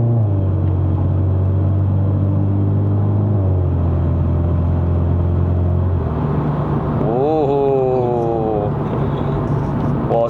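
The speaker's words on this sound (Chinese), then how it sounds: "它都是那一种 turbo spooling 的声音啊" A VW Polo GTI MK5 with a dry-clutch gearbox in manual mode pulls on the road, its engine droning loud and steady while the turbo spools. Pitch shifts with gear changes, and a rising whine climbs over the rumble near the end.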